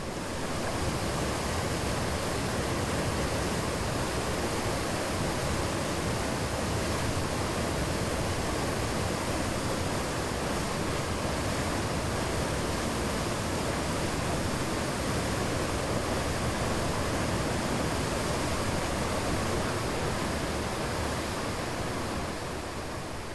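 Yongchu Waterfall and its mountain stream pour in a steady, dense roar of rushing water that stays loud and unbroken throughout, with no voices.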